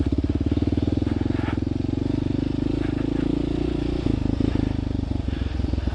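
A dirt-style motorcycle ridden at a practice track, its engine roaring loud and steady close by with a rapid pulsing throb, pitch shifting slightly near the end as the throttle changes.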